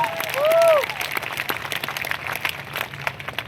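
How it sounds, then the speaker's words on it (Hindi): Audience at a wellness business event applauding a speaker, a dense crowd of clapping hands with some cheering at moderate level, a brief whistle-like tone near the start. "एक जोरदार तालियां होनी चाहिए"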